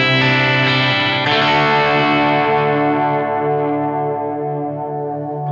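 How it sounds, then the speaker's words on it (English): Electric guitar ringing out through a dark delay with the top end rolled off, loud sustained chords swelling with repeats trailing behind, played alone with no talking. "the delay just creates a dimension behind the sound"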